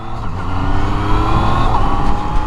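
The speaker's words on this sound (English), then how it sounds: "It's a really torquey engine. It's a 847cc inline 3-cylinder." A 2018 Yamaha MT-09 with an 847cc inline three-cylinder engine, heard while riding as a steady, loud engine drone with a rising rev and wind noise throughout.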